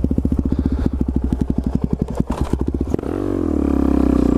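Supermoto motorcycle engine pulsing steadily as it rides, then a smooth rising rev, loud and close with clattering and thumps, no talk.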